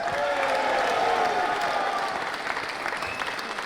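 A crowd applauds steadily, a dense wash of clapping that stays loud and then begins to taper slightly toward the end.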